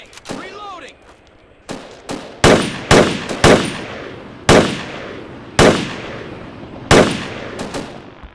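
Rifle shots in the Battlefield 2 Project Reality mod, about nine sharp, loud reports spaced a second or so apart, each followed by a brief echoing tail.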